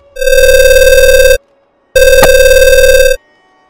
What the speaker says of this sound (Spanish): recibí una llamada en mi teléfono